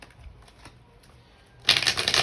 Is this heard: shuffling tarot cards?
yes